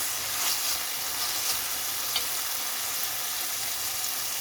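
Potatoes frying in a pan: a steady, dense sizzle close by, with faint light stirring scrapes now and then, continuous and even throughout.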